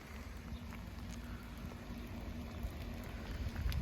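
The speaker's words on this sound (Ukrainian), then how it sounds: "Сьогодні у нас погода не дуже, падає дощ." Steady soft patter of rain falling, a faint continuous hiss with low rumble underneath, no voices.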